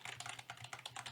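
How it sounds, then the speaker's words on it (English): Rapid typing on a computer keyboard, a steady run of close, soft key clicks at an even, quick pace with no voices. "So when someone's typing"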